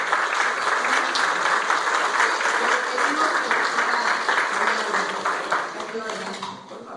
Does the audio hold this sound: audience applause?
yes